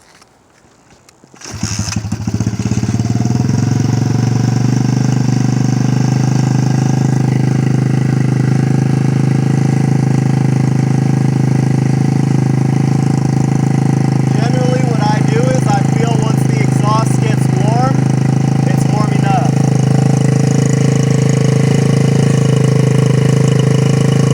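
A warmed-up motorcycle engine starts, then settles into a loud, steady idle for over twenty seconds, close to the listener. Faint voice-like sounds occur briefly midway.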